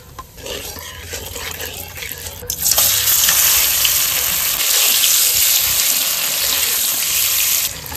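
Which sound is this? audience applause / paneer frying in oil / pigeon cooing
paneer frying in oil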